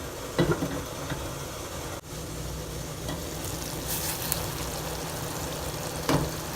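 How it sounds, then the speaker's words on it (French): Chicken yassa sauce bubbling and sizzling in a pot, a steady close hiss of simmering liquid with a couple of light knocks from the pot. "Là maintenant que ça bout"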